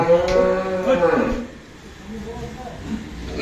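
A cow gives a loud, drawn-out moo up close at a cattle farm, followed by quieter rustling and low background noise.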